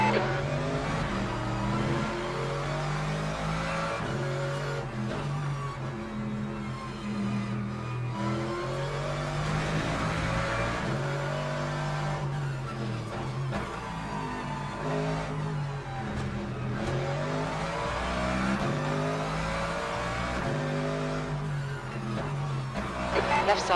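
Race car engines drone and rev continuously at Fuji in the video game Le Mans Ultimate, with shifting engine pitch and occasional tire noise while a voice calls out traffic throughout.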